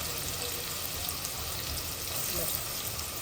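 Onion pieces frying in hot oil with whole garam masala for a spicy village chicken curry, a steady close broadband sizzle that continues evenly without clear breaks.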